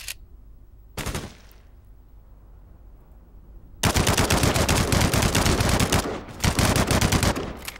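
A new gun fires in Code of War: one sharp shot, a pause, then a long, loud automatic burst of rapid rounds, a brief break and another sustained burst, with no talking.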